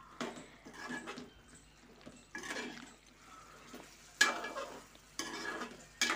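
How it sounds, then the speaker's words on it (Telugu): A ladle stirs curry with fresh mint and coriander, giving several short scraping, stirring bursts with soft sizzling between them, close and moderately loud. "పుదీనా, కొత్తిమీర ఇవి రెండు వేసి కొంచెం ఒకసారి గరిటె పెట్టి కలుపుకొని"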